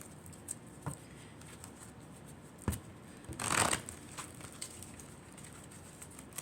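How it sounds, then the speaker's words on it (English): A brief riffle of a numerology card deck being shuffled stands out near the middle, with a couple of soft taps before it in an otherwise quiet room. "I'm going to shuffle the numerology deck."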